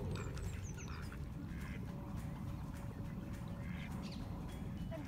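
Ducks quack intermittently across a park pond in London's Richmond Park, scattered calls over steady outdoor background noise, moderately distant with no talking.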